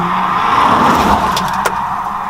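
Two Audi S5 cars pass by, a steady loud engine and road roar with tire noise filling the whole stretch and a brief sharp peak near the end.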